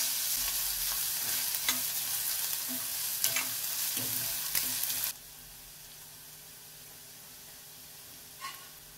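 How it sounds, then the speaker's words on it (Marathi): Two finely chopped medium onions fry over a high flame for a spicy village-style sandgyachi bhaji, a steady close sizzle with stirring scrapes for about five seconds before the sizzle drops to a faint hiss. "कांदा परतायला टाकल्यानंतर मोठ्या आचेवर कांदा परतून घ्यायचा"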